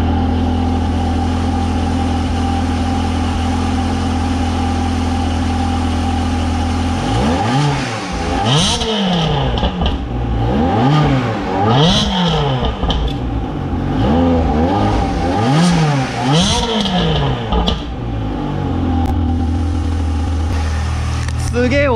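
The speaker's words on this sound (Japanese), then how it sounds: "マフラーの音聞いてください。" A Ferrari F360 Modena F1 V8 idles loudly, then its exhaust revs up and down several times in rising, rasping blips before settling back to idle.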